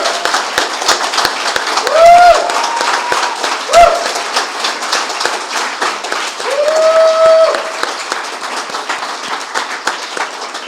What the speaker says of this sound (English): So let's give Leslie a round of applause